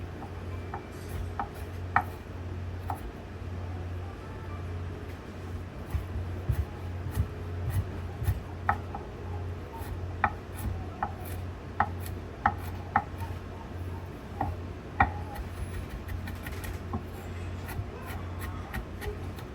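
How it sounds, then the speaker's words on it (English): Two cloves of garlic being chopped with a knife on a board, a long run of sharp, light, irregular taps over a steady low hum. "chop our garlic now. We just have 2 cloves of garlic."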